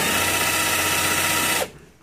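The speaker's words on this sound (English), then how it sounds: "I'm gonna take one of these drill bits, the bits put in my drill here" Power drill driving a screw into a lock, a close whining motor buzz held steady for about a second and a half before stopping abruptly into quiet.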